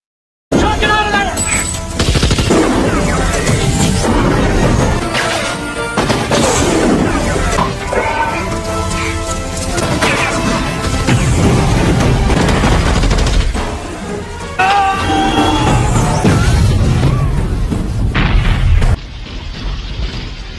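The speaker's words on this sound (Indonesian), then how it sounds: "terjadilah tabrakan antara tank Rambo dan helikopter Kolonel Sisson." Loud, chaotic film action sound of a tank and helicopter colliding in a Rambo movie, with repeated booms, blasts and crashing impacts layered over a thick rumble, nearly continuous for about twenty seconds.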